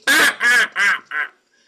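A DR85 duck call blown by a person in four short, loud nasal quacks, the last one shorter and softer, imitating a duck's quacking with no talk.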